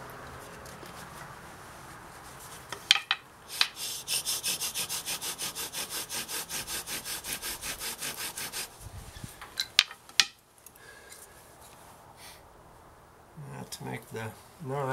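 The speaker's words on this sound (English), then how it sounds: "To make the notch is always a test of a knife." Steel knife blade scraping and carving a notch into soft yucca wood, a steady run of rhythmic rasping strokes lasting several seconds, preceded and followed by scattered sharper scrapes and light knocks at close range.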